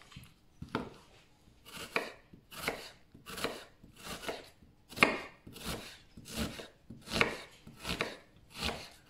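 Knife chopping an onion on a board for French onion soup, about eleven crisp, evenly spaced cuts at a steady rhythm, close and clear with no talking.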